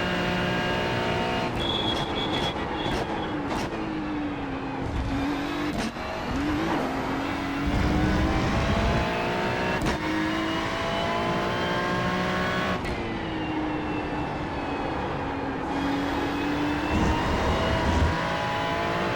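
A race car at Monza accelerates up through the gears, the engine note climbing and dropping with each quick shift, loud and continuous from onboard, with a brief tyre squeal.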